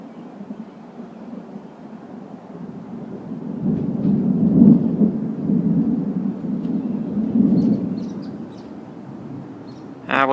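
Thunder from a strong thunderstorm in Hoover, Alabama rolls in as a long, low rumble, swelling twice to louder peaks before easing off, with no voices over it.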